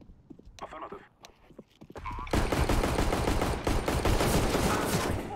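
Gunfire in a multiplayer shooter video game: after a couple of seconds of scattered sounds, dense and loud rapid automatic fire begins and continues to the end, with talking under it.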